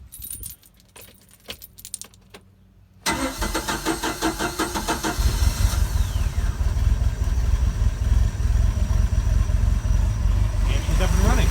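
Keys jangle and a few clicks, then a 3.0 Mercruiser boat engine with a carburetor cranks and catches, settling into a steady, loud, close idle that runs to the end of the clip.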